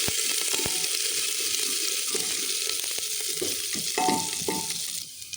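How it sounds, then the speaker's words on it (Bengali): Chopped ginger and garlic fry in hot oil while being stirred, giving a continuous sizzle with scraping and clinking of a utensil against the pan, close and fairly loud. "তেল গরম হয়ে যাওয়ার পরে এখানে দিয়ে দেবো আমি আদা কুচি, রসুন কুচিটা দিয়ে দেবো ফার্স্টে, দিয়ে ভালো করে নেড়ে নেব।"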